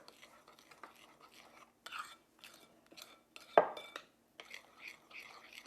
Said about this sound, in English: Then we're going to stir that together.